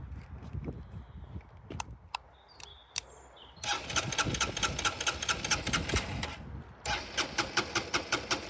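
A motorcycle engine with 21,425 miles cranks on a Noco Boost Pro jump starter: two bursts of rapid, loud, rhythmic starter churning that fail to catch, after a quieter stretch of clicks and handling noise.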